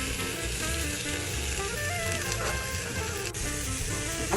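A hamburger patty topped with a slice of cheese fries in a covered pan, giving a steady, close, broadband sizzle that holds evenly throughout with no voices.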